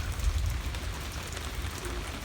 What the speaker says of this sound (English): It's not a hard rain though. It's nice slow rain